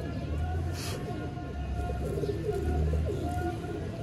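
Several fancy pigeons in Lahore coo in low, throaty rolls close by, overlapping continuously, with faint voices murmuring in the background.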